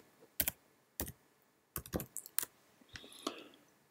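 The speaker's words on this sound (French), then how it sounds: "À ce stade, vous pouvez commencer à taper des chiffres." Number keys tapped on a computer keyboard in short irregular bursts of crisp clicks, close and fairly quiet, with no talking.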